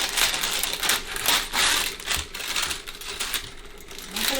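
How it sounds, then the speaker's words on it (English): Scissors cut back parchment paper while a turkey is prepared for roasting, giving a run of crisp snips and crinkly rustles in uneven bursts, close and fairly loud, with no talk. "I'm going to take a pair of scissors and I'm just going to cut back this parchment paper"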